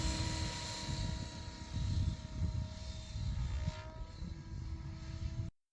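Radio-controlled model helicopter flying into a light wind and gathering speed, a continuous close rotor drone with a whining engine tone that swells and dips slightly, then ends abruptly.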